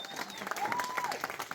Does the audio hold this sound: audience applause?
yes